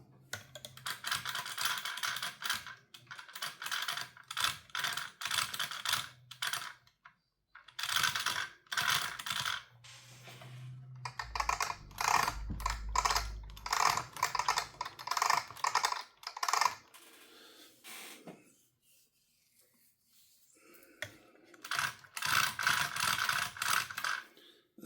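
The drivetrain gears of an Arrma Infraction RC car whir and rattle in repeated close bursts of varying length, separated by brief pauses.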